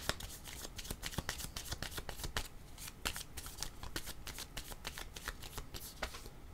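A deck of tarot cards shuffled by hand in a steady run of rapid riffling flicks, close and fairly loud, with no talking throughout.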